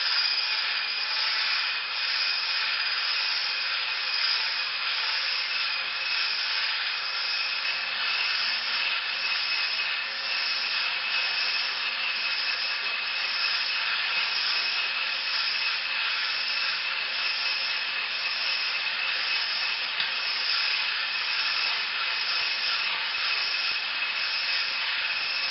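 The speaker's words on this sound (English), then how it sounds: "Just going to mix it around now, get it going, start to mix it in." An electric mixer whirs steadily as it blends gluten-free cupcake batter with flour, a continuous high motor drone with a faint rhythmic pulse, close and unbroken, with no voices.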